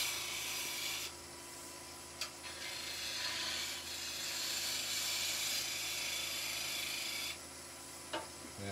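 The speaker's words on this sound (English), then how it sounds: "Just doing some nice little skew cuts just to tidy that finish up." Skew chisel making light tidying cuts on wood spinning on a lathe, a soft continuous rasping hiss that swells and fades in passes over the lathe's steady hum, with a couple of small knocks.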